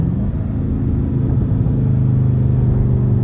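An SRT Mopar car being driven, a loud steady low engine rumble with road noise heard from inside the cabin, continuous throughout with no speech.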